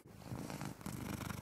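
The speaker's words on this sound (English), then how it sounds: "And there's snoring Itchy." A sleeping cat purrs and snores softly and close by in a continuous low rumble with a breathy rhythm, quiet and alone.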